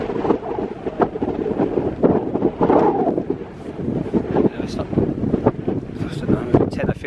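Strong wind buffets a solo tent, an Alpkit Soloist, pitched on an open fell for a wild camp, with a loud, continuous gusty rumble and irregular flapping bursts close to the microphone.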